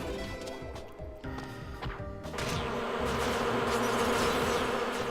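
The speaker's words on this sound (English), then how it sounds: "so these bee enemies were just super annoying" Bee enemies buzz in the video game Freedom Planet, a continuous insect-like drone under game effects, with a few impacts, growing denser and louder in the second half.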